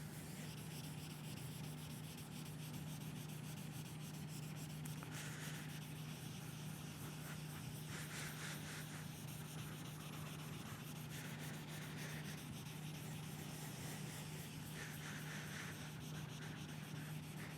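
Wet sanding of a glass surface using a sponge and 400-grit abrasive in a studio, a steady close rubbing and scrubbing hiss with a constant low hum underneath, continuing without pause.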